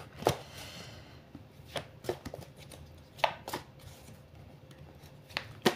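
A large 81-card oracle deck being shuffled by hand, sharp riffling snaps and card slaps at uneven intervals over a quiet room, close and fairly faint, no talking.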